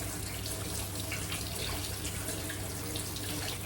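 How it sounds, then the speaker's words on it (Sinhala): Cold tap water runs steadily and close over cooked egg pasta being rinsed in a sink, a continuous splashing rush without pauses or voices. "අන්න ඒක හොඳට ඇල් වතුරෙන් සෝද ගන්න ඕනේ මේ විදිහට"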